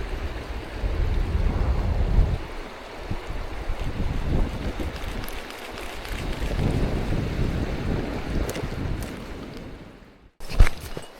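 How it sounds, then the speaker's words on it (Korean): Rain falling over a stream during rainbow trout fishing, a steady broadband wash mixed with wind buffeting on the microphone, continuous for most of the stretch before a brief dropout and a gusty burst at the end. "비가 내려"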